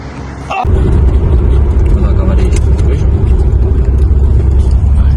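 A VAZ 2107 Lux engine starts loud and holds a steady, heavy roar as the car accelerates on a highway, close to the microphone.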